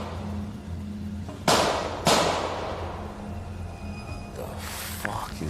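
Two sharp, loud gunshots crack a fraction of a second apart over a low background hum, followed by a fainter burst of noise a few seconds later.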